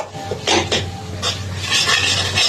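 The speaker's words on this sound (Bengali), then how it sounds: "এখানে মশলাটা কষাচ্ছি।" Spices are sautéed in a pan in a home kitchen, with scraping strokes of a utensil and soft clinks over a quiet steady sizzle, close and moderately loud.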